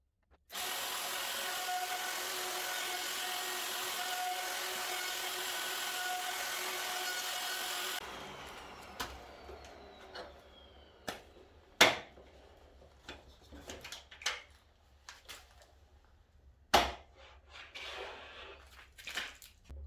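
A router fitted with a Doorprofi jig cuts a trench into the bottom edge of a wooden door, whining loud and steady for about eight seconds before winding down, followed by scattered knocks and clicks.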